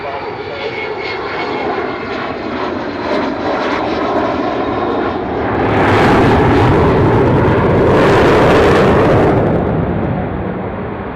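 A large aircraft with all 18 wheels down roars in to land, a loud, continuous engine rumble that swells and intensifies toward the end as it passes close.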